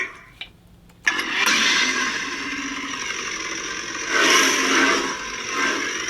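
KR Sabers FlagShip V2 lightsaber igniting with a sudden loud burst, then settling into a steady motor-like hum with a slight swell midway, close and alone.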